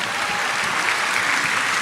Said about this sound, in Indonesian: Tepuk tangan lu yang paling meriah buat Tuhan.